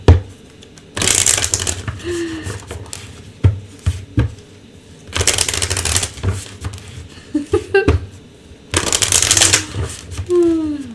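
Bursts of an oracle card deck being shuffled come in three loud, papery flurries, with quieter handling and someone talking between them.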